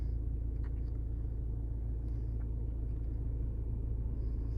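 A parked car's engine idles as a low, steady rumble heard from inside the cabin after the ignition is switched on, faint and continuous with no talking.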